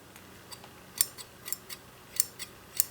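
Aquascaping scissors for trimming aquatic plants click and snip in a handful of crisp, light metallic ticks, close and quiet, with irregular spacing and a faint background hiss.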